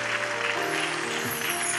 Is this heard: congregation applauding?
yes